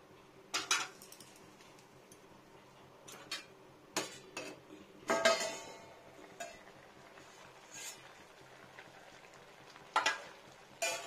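A lid goes onto a pot of boiling arum and prawns: a few faint metallic clinks and taps come at scattered intervals against a quiet kitchen background, with no talking.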